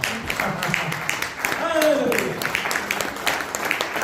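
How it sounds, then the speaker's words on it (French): Church congregation clapping together, with continuous applause blended with raised voices and a brief tonal wail in the middle. "Donnez une bonne main d'applaudissement, Seigneur."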